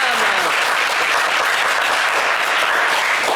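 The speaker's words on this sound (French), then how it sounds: "On peut les applaudir très fort," Dense, loud applause from a studio audience on the French television game show Le Coffre Magic, sustained evenly from start to finish with a steady crowd roar and no break.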